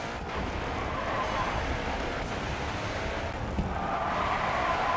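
A Koenigsegg race car in the racing game GRID 2 brakes hard and skids, a loud, steady roar of engine and tyre noise that holds unbroken for the whole stretch.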